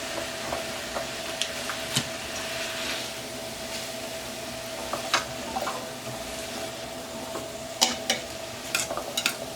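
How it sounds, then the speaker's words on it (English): Butter sizzles and fries steadily around chicken backs in a pan, a continuous close hiss broken by scattered sharp pops and spatters, with no one talking. "I'm going to add some butter. And that was about 2 tablespoons of butter I just put in there."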